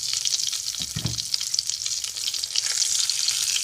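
Hilsa fish pieces fry in hot mustard oil on a low gas flame, a steady close sizzle with crackling pops throughout and a brief louder burst as the fish settles, no voices.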